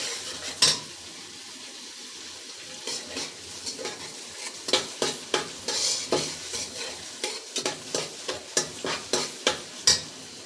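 Chopped onions, cinnamon and cardamom stir-fry in oil for bhuna khichuri, with a constant sizzle beneath rhythmic scrapes and knocks of a spatula against the pan, close and fairly loud, with no talking.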